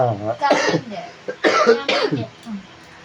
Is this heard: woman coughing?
yes